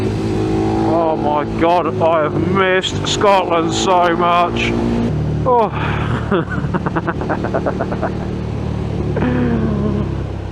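A 200 WHP Kawasaki motorcycle on a road in Scotland, engine droning and rumbling steadily with a rising and falling rev pitch under loud wind noise, while a rider talks excitedly over it.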